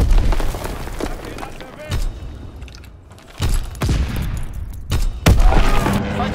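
A fighter plane strafing run in the World War II shooter Call of Duty: WWII: bursts of heavy gunfire and booming impacts arrive in several loud clusters, separated by brief quieter gaps with rumbling in between.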